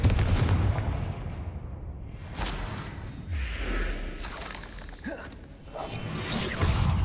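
Explosive Confringo spell bursts in Hogwarts Legacy, cast against spider egg sacs: loud booming blasts with whooshing swishes, several impacts spread across the clip over a rumbling game soundscape, no talking.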